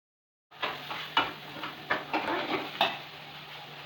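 Onions and garlic sautéing in a pan for Indian-style masala pasta: after a moment of silence comes a soft, steady sizzle, punctuated by regular scraping and tapping as a spoon stirs, with no talking.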